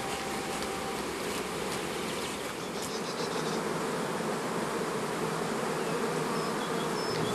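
Honey bees buzz at a hive in a dense, continuous drone that fills the scene at a steady level, with no voices.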